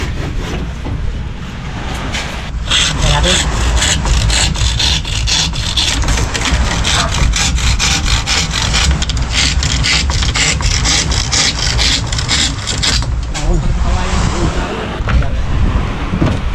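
A hand saw cuts through wood in a long run of rapid, rhythmic rasping strokes, close up, with a short pause partway through, during boat building.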